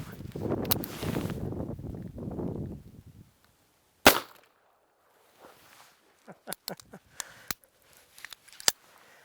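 A .45 Colt revolver fires a single snake shot load at a target about ten feet away. One sharp, loud report follows a few seconds of voice, then light clicks and metallic handling sounds as the gun is worked.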